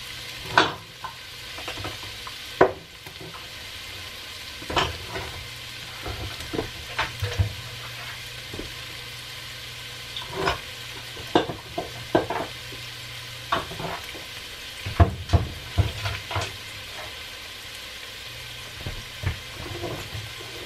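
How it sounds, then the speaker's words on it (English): Food sautés in a pan for puffy tacos with a steady sizzle, while a utensil scrapes and stirs in frequent short, irregular strokes close by. "And I'm just gonna saute these for 2-3 minutes."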